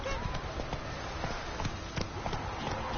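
Roach the horse galloping in The Witcher 3, a quick repeated clip-clop of hooves over steady game ambience, close and continuous.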